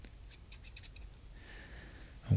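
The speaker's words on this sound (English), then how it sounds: "Got my scissors." Scissors snipping through paper to cut out printed famous paintings, a quick run of crisp close blade clicks and slicing strokes, ending in a louder rustle of handled paper, with no talking.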